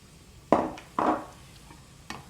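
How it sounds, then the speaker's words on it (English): Onion sizzles in a hot pan, two bursts of frying hiss flaring up and fading, with a fainter third sizzle near the end, close and without voices. "we're getting a little bit of a sizzle"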